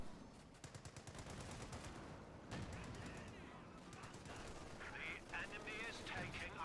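An MG42 machine gun firing in a strategy video game, rapid bursts of gunfire mixed with heavier explosions and battle noise, steady and dense throughout.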